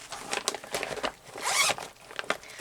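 A zipper runs around a sticker book case in several quick, scratchy pulls, close and moderately loud, with one longer drag in the middle and no talking.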